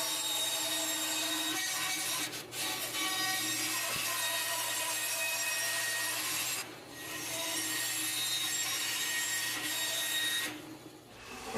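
Plywood being cut into pieces with a saw, a steady continuous rasping drone running nearly the whole time, with two short pauses and no talking.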